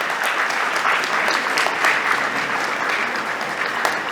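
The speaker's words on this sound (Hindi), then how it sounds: "जोरदार तालियों के बीच स्वागत करेंगे अजय जी का।" Loud, dense applause from a seated audience at an award felicitation ceremony, welcoming a guest onto the stage; steady clapping fills the whole stretch with no talk over it.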